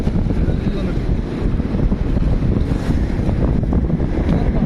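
Deep, continuous roar of surf washing onto a Kerala shore, blended with buffeting wind noise on the microphone, steady and loud throughout.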